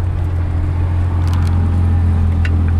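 Steady, loud engine drone from a 1978 Porsche 911 SC on a test drive, holding a constant low rumble throughout with slight road noise and no talking.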